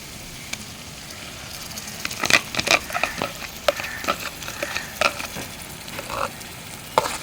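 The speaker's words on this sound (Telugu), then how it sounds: "పేస్ట్ వేసి మిక్స్ చేసుకుని నూనె పైకి తేలే వరకు వేయించుకోండి" Ground paste frying in oil for a Telugu palmyra fruit pulp curry, crackling and popping in scattered bursts over a low, steady sizzle, close by and moderately loud, with no voices.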